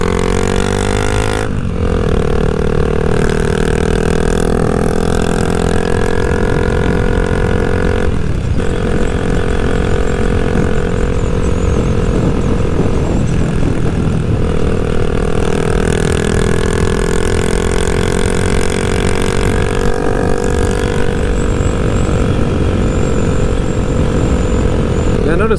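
A Honda Rebel 300 motorcycle engine hums steadily at cruising speed on an Indiana road, with a constant loud drone, heavy wind rush and slight pitch shifts, while a rider talks over it.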